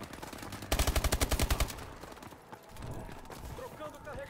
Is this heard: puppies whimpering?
no